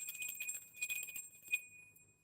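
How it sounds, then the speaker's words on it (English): A small bell rung to cleanse a space during a spiritual tarot session gives a high, sustained metallic ringing with faint repeated strikes, fairly quiet and fading toward the end. "We cleanse the bell, we ring the bell to cleanse the space"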